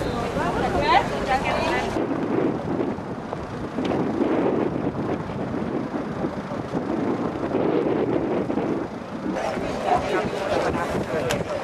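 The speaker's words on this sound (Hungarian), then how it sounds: "Megjött a szél," Strong wind buffets the microphone outdoors at a March 15 gathering by a statue, producing loud, rumbling gusts that roar and drop throughout, with crowd sounds underneath.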